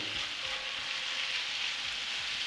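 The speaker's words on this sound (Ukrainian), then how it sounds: "А ще десь отак з нашим базиліком десь секунд 30 обжарюємо" Vegetables and basil sizzle and crackle steadily in a hot pan, a constant close frying hiss with no voices.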